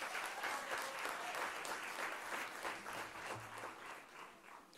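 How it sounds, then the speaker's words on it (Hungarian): Warm applause from an outdoor audience at an award ceremony in a museum garden in Érd, Hungary: steady, dense clapping heard at a distance that slowly tapers off. "Tapsoljuk meg még egyszer!"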